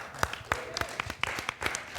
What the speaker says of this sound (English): So I think Nathan deserves a round of applause